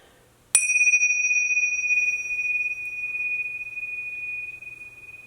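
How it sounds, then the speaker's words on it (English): Chimes struck once ring out with a sharp onset and a long, steady sustained metallic tone that decays slowly in a quiet room, with no talk over it. "see how I just had to stop the chimes, girl? It was ringing."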